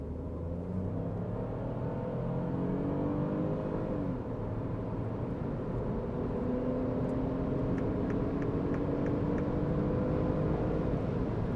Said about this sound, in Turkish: 40 ile gidiyorum ara hızlanma için. Bastım.